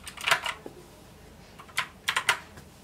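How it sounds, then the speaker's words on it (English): Typing on a backlit computer keyboard, with a quick burst of keystrokes at the start and a second cluster near the end, separated by a quiet pause, crisp and close. "I'm typing my words."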